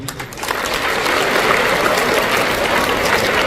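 A large crowd at a public speech in Sangamner applauding, swelling after the first half second into sustained, dense clapping that continues evenly to the end.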